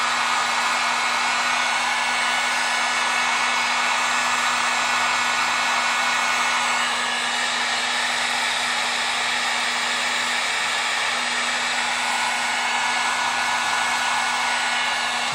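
A heat gun blows steadily and loudly at close range for the whole stretch, shrinking a solder seal wire connector, its constant hum unbroken and with no talking.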